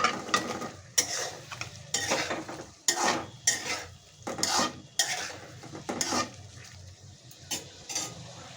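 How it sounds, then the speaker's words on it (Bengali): Pointed gourds go into a pan of fried spice paste and are stirred. A spoon scrapes and clatters against the pan in repeated strokes, and a light sizzle runs underneath, close and moderately loud. "মশলাটা কষিয়ে নিয়েছি। এখন আমি এর ভিতরে পটলগুলো দিয়ে দেব।"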